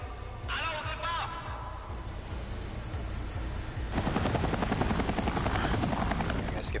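A helicopter's rotor chop swells to a loud, steady thrum in a Resident Evil game scene, with a brief voice early on and pulsing blade beats dominating the second half.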